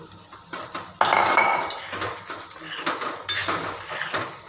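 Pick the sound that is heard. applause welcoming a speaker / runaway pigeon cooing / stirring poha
stirring poha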